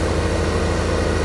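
Tractor engine idles in Farming Simulator 15, a loud, steady low drone with an even pulsing rumble and no variation, filling the whole stretch without any voices.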